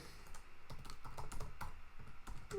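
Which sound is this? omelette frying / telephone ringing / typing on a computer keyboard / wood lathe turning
typing on a computer keyboard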